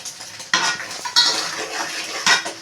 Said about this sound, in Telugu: మొత్తం ఉల్లిపాయ పచ్చిమిరపకాయ కలిసేటట్టు బాగా శుభ్రంగా కలిపేసుకుందామండి